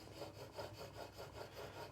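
A narrow chisel is pushed back and forth on a natural sharpening stone, making a soft, rhythmic scraping with about eight even rasping strokes, close and quiet, no voices.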